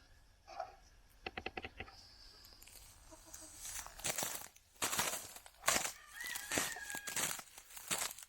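Chickens clucking and fowl calls in short bursts on a smallholding on a cold winter morning, mixed with rustling and crinkling noises close by, quiet overall.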